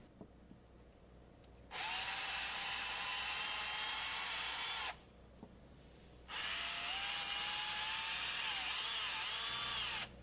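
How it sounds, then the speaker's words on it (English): A power drill fitted with a 1/8-inch bit whines steadily through two long runs, separated by a brief pause, while cleaning out the valves and fittings of a Cretefill pump manifold. "I'm going to use a smaller 1/8-inch drill bit and clean out all these valves"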